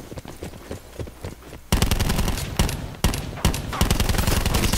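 Rapid gunfire in the shooter Call of Duty Black Ops 4: a quieter stretch of scattered shots gives way to loud, dense bursts of automatic fire with sharp individual cracks, continuous and close.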